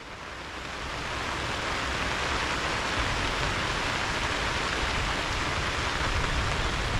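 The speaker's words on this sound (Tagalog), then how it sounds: "Hoy, malakas ang ulan!" Heavy rain pours down in a dense, roaring hiss that swells slightly at the start and then holds steady and loud.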